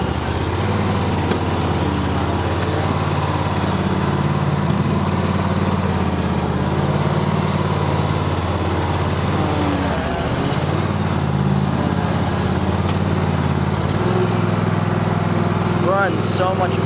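A Cub Cadet garden tractor's engine runs steadily and loudly nearby in snowy conditions on a driveway, a constant droning hum with a slight dip in pitch midway.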